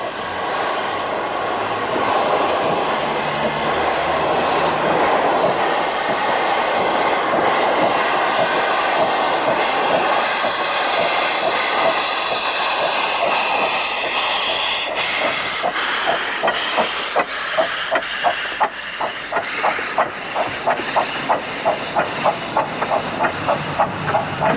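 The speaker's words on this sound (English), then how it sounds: "before the train leaves for Hythe and the waiting passengers" A steam train hisses with steam and machinery noise, then rhythmic clacking builds and quickens as it departs for Hythe on the Romney line; loud and close, no voices.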